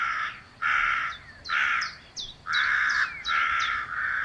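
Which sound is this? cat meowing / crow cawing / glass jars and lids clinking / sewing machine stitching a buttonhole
crow cawing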